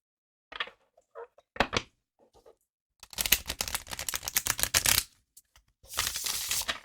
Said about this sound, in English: I will cut shuffle